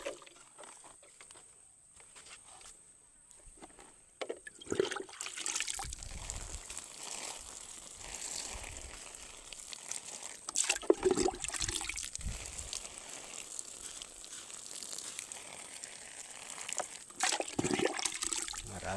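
Water splashes and trickles while garden plants are watered, with uneven bursts of pouring and spilling that come and go over steady outdoor background noise.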